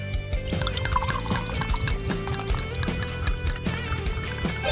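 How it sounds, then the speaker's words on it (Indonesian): Soda is poured over cut watermelon, orange and other fruit, a continuous liquid stream heard under busy background music. "Dan tuangkan soda."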